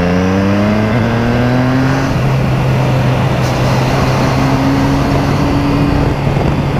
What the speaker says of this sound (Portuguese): Então vamos de moto. Moto velocidade.